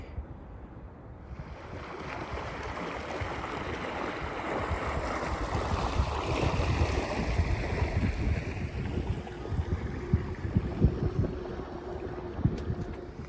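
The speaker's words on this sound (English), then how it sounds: "Now we're actually getting a little bit of a breeze here." Steady breeze rushes across the microphone while floating the Missouri River near the 364 Bridge, a broad continuous whoosh that builds gradually, with water lapping softly underneath and no talking.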